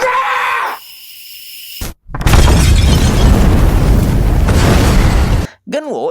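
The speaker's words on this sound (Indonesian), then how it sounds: "Genwo yang menunggu di luar sangat khawatir melihat lantai yang didatangi Ganyong meledak." Floor bursting apart in an explosion in a film scene, a loud sustained roaring blast with debris noise, preceded by a brief tonal voice-like sound and followed by a short wavering cry.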